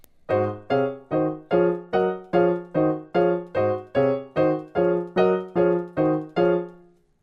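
Piano chords struck one after another in a steady rhythm, about fourteen in all, each ringing briefly and decaying before the next. No voices.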